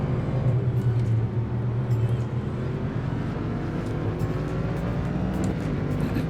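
Steady, loud engine roar of a DPI prototype race car in Automobilista 2, holding a continuous high-revving drone throughout with no talk.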